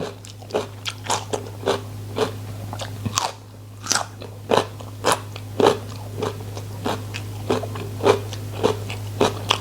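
Isan pork sausage eaten with crunchy fresh vegetables: close, crisp bites and crunchy chewing repeat about every half second in a steady rhythm, with no talking.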